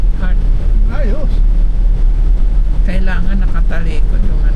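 Strong wind blusters and roars low against the microphone outdoors on a Zambales–Pangasinan–Benguet road trip, near and continuous, while people talk over it.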